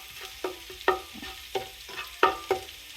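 Fresh chili pounded with garlic is stir-fried in a pan for pad kra pao: a soft sizzle under repeated sharp scrapes and taps of a spatula, about eight strokes in quick, uneven rhythm.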